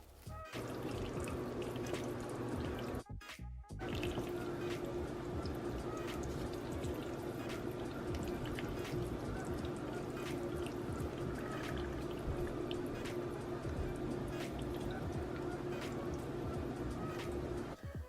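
Cooked noodles stirred into a cheese sauce for baked mac and cheese, a continuous close wet sloshing and squelching with one brief break near the start, alone without talk.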